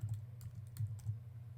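Soft rapid clicks of a computer keyboard as a word is typed, a short burst of close keystrokes over a steady low electrical hum.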